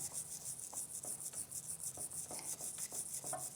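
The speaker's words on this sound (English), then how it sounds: "let's just start by scrubbing." Bonsai deadwood is being scrubbed clean in quick, rhythmic, scratchy strokes, soft and close, over a steady high-pitched background hiss.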